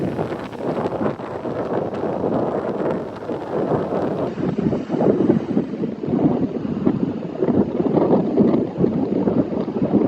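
East-northeast wind blows at Seaside Park beach during Hurricane Erin, with red flags and hurricane swell, as a loud, gusty rumble buffeting the microphone and surging and easing over ten seconds.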